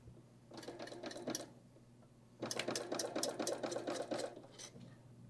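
A serger stitches down a quilting line in two steady, close-up runs: a short burst, a brief pause, then a longer stretch of rapid mechanical whirring.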